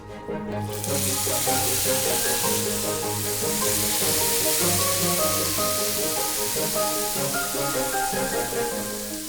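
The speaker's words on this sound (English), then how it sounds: "we're just gonna take the steak, go straight in the middle of the pan" A steak drops into the middle of a hot pan and bursts into a loud, steady sizzle that starts after a brief pause and holds constant and close throughout, with faint background music underneath.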